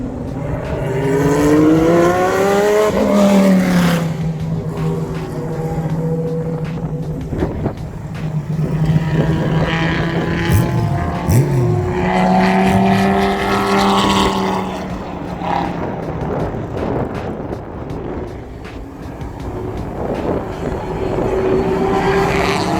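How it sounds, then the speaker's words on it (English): Race cars, including a C5 Corvette race car, Dodge Viper race cars and a Ferrari 575, roar past at a Corvette track event, engines rising and falling in pitch in continuous loud passes. "We had a C5 race car."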